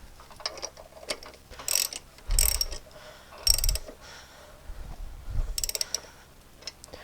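Ratchet wrench with a 5/8 socket tightening a spark-plug-area fitting on a 2003 Toro Personal Pace mower, a few short bursts of ratcheting clicks, close and alone.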